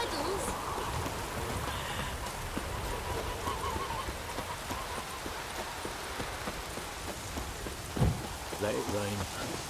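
Rain falls steadily in The Witcher 3 game world, a dense hiss of drops pattering on surfaces with a faint low rumble and a few soft knocks and clip-clop sounds, no talk.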